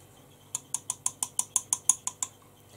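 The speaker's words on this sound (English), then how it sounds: "You can very lightly scratch over the surface" Light scratching over the hardened surface of a pressed makeup powder pan: about ten quick, evenly spaced crisp scrapes, close and clear, with no talking.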